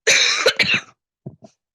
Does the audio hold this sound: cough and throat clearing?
yes